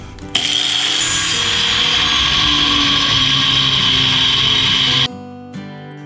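A 4.5 inch cutoff wheel cuts into metal for a rocket stove, a loud, sustained high-pitched grinding whine that starts abruptly, holds steady for about five seconds, then stops and leaves a fading spin-down.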